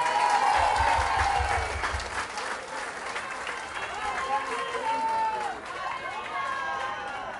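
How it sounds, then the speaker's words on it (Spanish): A nightclub crowd at a show applauds a group of singing winners, a broad wash of clapping and cheering with voices talking and calling out over it throughout. "un aplauso para esos ganadores"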